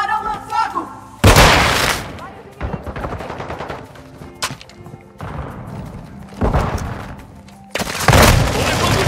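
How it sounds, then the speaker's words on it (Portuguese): Gunfire in a multiplayer shooter video game comes as loud bursts and sustained volleys mixed with heavy thuds and booms, rising and falling over several seconds, with game voice lines or talk faintly underneath. "Estou levando um tiro aqui!"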